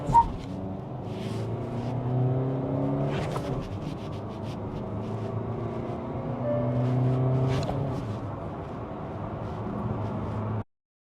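A Kia Carens Clavis with its 115 PS diesel engine and manual gearbox hums in a steady low drone from inside the cabin while driving, rising slightly in pitch partway through, with a soft road rumble and faint clicks.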